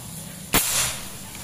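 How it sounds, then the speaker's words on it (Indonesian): A single sharp PCP air rifle crack with an instant burst of shattering brick debris, loud and close over a steady background hum. "Oke, tembakan pertama sebelah kiri."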